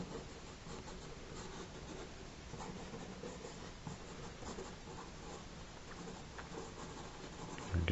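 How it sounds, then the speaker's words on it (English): A pencil or pen scratches and rubs steadily across paper, sketching a horror drawing in soft, continuous close-up strokes with no voices. "Just keep sketching and tinkering with it."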